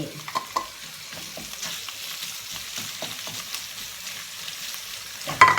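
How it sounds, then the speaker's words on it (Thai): Shrimp and fish balls stir-fry in a pan for spaghetti, a soft steady sizzle with repeated scraping and clinking of a spatula and a louder clatter near the end. "ผัดรวมกันเลย ให้ความร้อนเข้าเข้ากัน"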